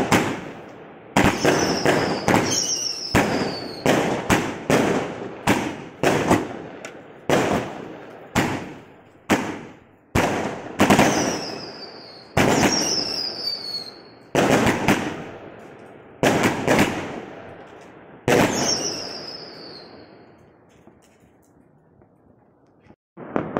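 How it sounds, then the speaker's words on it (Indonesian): Fireworks set off in a house yard for Chinese New Year, a long series of sharp, loud bangs in irregular bursts, each followed by crackling and a whistling tail, thinning out toward the end. "Ini nyalain kembang api di halaman rumah."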